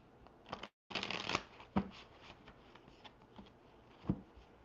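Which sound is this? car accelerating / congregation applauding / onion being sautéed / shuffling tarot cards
shuffling tarot cards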